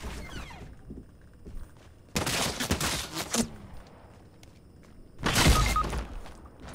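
Video game gunfire arriving in two loud, rattling bursts a few seconds apart, with quieter stretches of faint footsteps and background noise between them.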